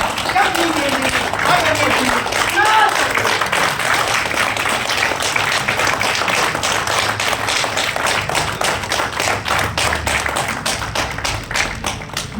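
Audience clapping at a store opening event in Rohini, Delhi, steady rhythmic applause from a gathered crowd with voices mixed in, continuing throughout at moderate loudness.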